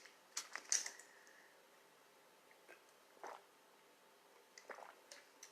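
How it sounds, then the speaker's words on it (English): A person takes a sip of water, with soft slurping and swallowing noises in a few brief bursts, close and quiet against near silence. "I gotta take a sip of water."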